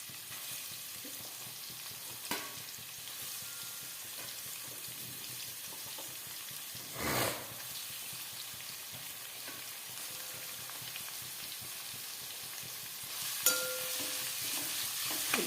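Onions frying in coconut oil for a chicken curry, a quiet steady sizzling hiss up close with a few soft scrapes and one brief louder stir in the middle, no voices.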